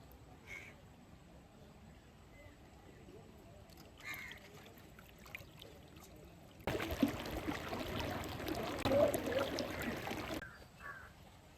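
Water is poured while fish are washed in a village setting, making a steady splashing rush for a few seconds between quieter stretches, with faint talk and background sounds.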